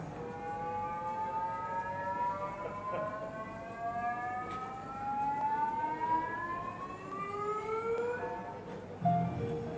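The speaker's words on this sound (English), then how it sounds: "it'll go through a resonance and it'll sound like this." The Curiosity rover's SAM lab instrument vibrating through a resonance: a continuous electronic whine with stacked harmonics, rising slowly in pitch for about ten seconds, with a brief click near the end.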